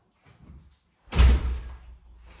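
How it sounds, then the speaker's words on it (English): An indoor door is pulled shut with a single loud, close thud and a brief rattle, after some soft movement, in a house being dressed with big arrangements. "so I'll shut the door"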